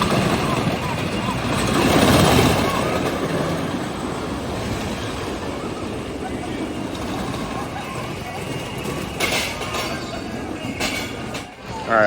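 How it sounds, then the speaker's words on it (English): A roller coaster ride at Indiana Beach Boardwalk gives a continuous rumbling roar of wheels on track with rattling and wind, loud and close, while a rider talks through parts of it. "one last ride on the most unique coaster I've ever ridden."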